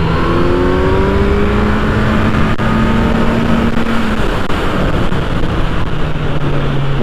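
A 2020 Kawasaki Z900 motorcycle engine runs loud and close throughout, its pitch rising and falling in smooth revs over a steady roar.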